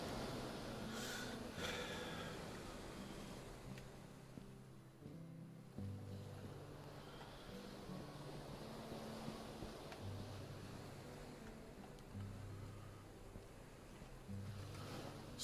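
Ocean waves wash steadily in a ship-breaking yard in Ship Graveyard Simulator, a broad constant surf-like rush with low droning tones and no talking.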